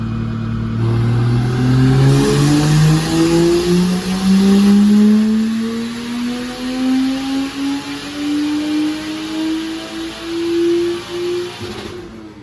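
A stock Toyota 1JZ-VVTi engine on a dyno pull climbs in a loud, steady rev from low to high over about eleven seconds, then cuts off sharply at the end.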